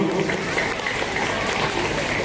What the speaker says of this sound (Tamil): கைத்தட்டி உற்சாகப்படுத்துமாறு கேட்டுக்கொள்கின்றோம்.